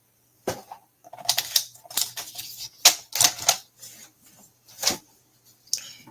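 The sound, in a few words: cutting paper straight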